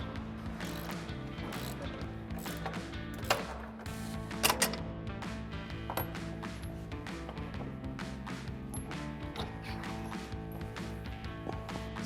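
Small metallic clicks, scrapes and ratcheting come from up close as set screws are loosened and an old upper bearing is slid off a spindle shaft, steady and fairly quiet.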